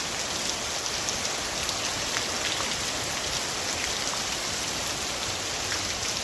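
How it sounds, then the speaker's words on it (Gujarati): Steady rain pours down continuously, a dense hiss of drops hitting surfaces with no pauses and no voices. "વરસાદ તો ઘડીક વાર જ આવ્યો પણ સારું પાણી પાણી કરી ગયું"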